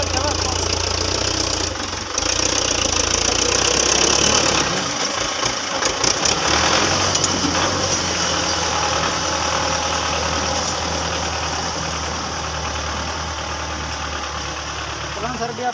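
A tractor engine runs steadily with a low, continuous idling rumble and some knocking vibration, loud and close throughout, with brief clattering disturbances in the middle.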